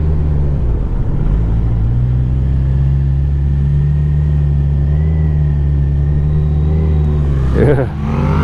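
A motorcycle carrying two riders closes in fast from behind on an Alpine mountain pass road, its engine a steady loud drone that swells and whooshes by near the end, heard over the hum of the recording bike.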